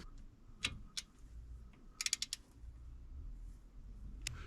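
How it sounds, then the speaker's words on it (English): A torque wrench tightening bolts to 35 foot-pounds while installing a lunchbox locker in a Jeep Dana 30 axle, quiet ratcheting and a quick burst of sharp metallic clicks, close and faint with no talk. "Alright, now we go torque these down to 35 foot-pounds."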